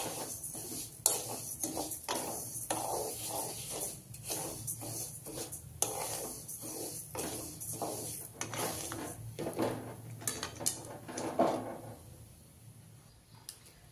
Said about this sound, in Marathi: गॅस बंद केल्यावर 2 मिनिटं मी चांगलं मिक्स करून घेणार आहे।